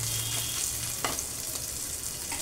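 Ginger and garlic fry in a pan with a soft, continuous sizzle, steady and fairly quiet, with one brief stir clatter partway through and no speech.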